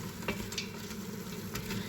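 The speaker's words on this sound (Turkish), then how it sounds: "soğanımız, etimiz güzelce kavrulmaya devam ediyor" Steady sizzling of onion, garlic and meat frying in a pan for a dried bean stew, with occasional stirring scrapes; close and moderately quiet, no talking.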